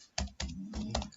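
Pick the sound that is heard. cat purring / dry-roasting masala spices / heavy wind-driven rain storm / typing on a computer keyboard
typing on a computer keyboard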